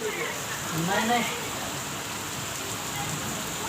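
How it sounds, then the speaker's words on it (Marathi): Heavy unseasonal rain pours steadily after a cyclone-like storm, a dense continuous hiss of downpour with a slightly louder swell near the start, and voices talk over it. "हे कसला पाऊस आहे बघा बघा हे पाणी काय झालं"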